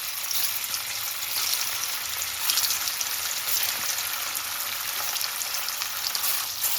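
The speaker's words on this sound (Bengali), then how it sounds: "প্রথমে আমি পনিরটা ভেজে নিচ্ছি।" Paneer frying in white oil with a little salt in a pan, a continuous dense crackling sizzle heard close and steady throughout.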